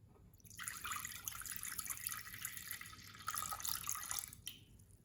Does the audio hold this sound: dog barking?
no